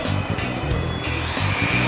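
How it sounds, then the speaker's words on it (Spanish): A Dremel rotary tool, switched on by voice command through an Arduino controller, runs with a steady motorized whine and a strong, pulsing low hum throughout, close and loud with no talking. "Ahora, vamos, enciéndeme el Dremel."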